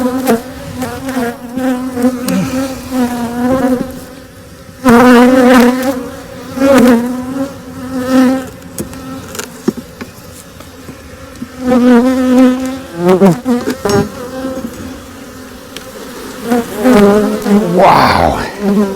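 Many honeybees buzz around opened beehive frames, their droning hum rising and falling in overlapping waves as individual bees fly close past, continuous and fairly loud for the full stretch, with no talk.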